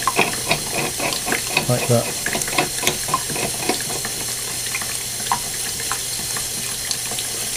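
Water runs steadily from a tap at a stop tap fitting, a continuous close hiss with splashing, while someone speaks briefly and some clinks and handling noises sound over it.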